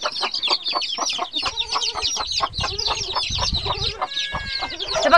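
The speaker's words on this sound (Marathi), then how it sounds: "ही कोंबडी आणि 13 पिल्ले काढलेले आहेत आणि गावरानी कोंबडी आहे आपली।" A desi country hen clucks in a steady, rapid series right beside her thirteen small chicks, close and moderately loud with no talking.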